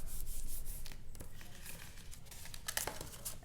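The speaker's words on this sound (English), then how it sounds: "You're just going to insert this back into place, give it a good rub" A hand rubs firmly over a handmade paper card to press an insert flat, producing close, continuous papery scuffing and crinkling strokes with a few sharper rasps.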